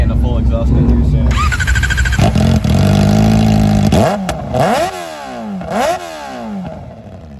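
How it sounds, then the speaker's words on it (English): Inline-four 400cc motorcycle with no muffler at a car show, loud raw engine revving in sharp rising and falling blips over a rough idle, with people talking nearby. "I don't have a muffler on it right now, but I plan on getting a full exhaust in here soon."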